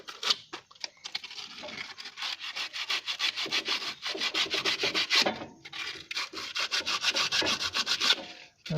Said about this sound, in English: Let's use the sandpaper here real quick to clean this up.